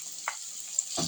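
Chopped onions hit hot oil with ginger and garlic while egg rice is being made, producing a brief, faint, even sizzle with a couple of soft knocks near the end.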